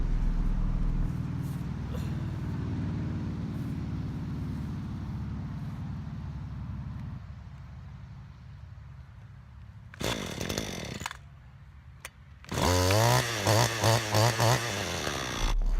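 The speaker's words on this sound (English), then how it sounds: "it cranked right back up, no problem" Stihl FS 94 R string trimmer with a hot-start problem: a fading mechanical rumble, then a short burst of cranking and a pause before the engine catches and runs loudly with a buzzing, rising-and-settling idle.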